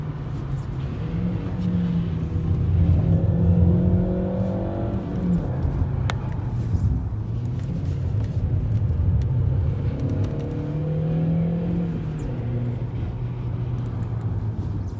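A Volkswagen Polo 5 with the 1.4 litre 85 hp engine pulls hard from inside the cabin, its engine note rising through the gears with rumbling surges and brief dips between shifts, no voices.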